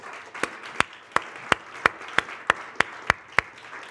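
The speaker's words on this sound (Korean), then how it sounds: "결혼합니다. 박수하겠습니다." A church youth-service congregation claps in unison: about ten sharp, evenly spaced claps in a steady beat, close and distinct over a quiet background.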